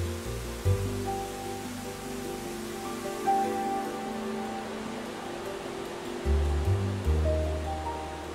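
Water of Mingo Falls tumbling over many small rocky crags, a steady broadband rush that holds level for the whole stretch, with faint sustained tones running underneath.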